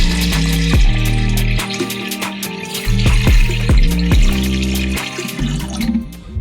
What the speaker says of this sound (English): let's get this reservoir filled up so we can test the waterfall and make sure it works properly.